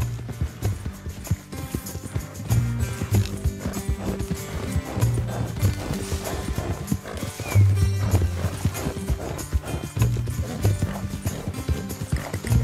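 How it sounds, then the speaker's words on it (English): A horse in the video game Red Dead Redemption 2 whinnies and neighs while its hooves clop in a steady, close rhythm, loud and continuous throughout. "Whoa, horse, calm it down."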